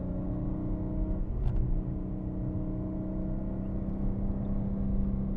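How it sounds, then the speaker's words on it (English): BMW M car engine on a track day holding a steady, droning rumble as throttle is fed in, a continuous mid-level engine tone with a brief whine swelling near the start. "Team, I'm adding throttle."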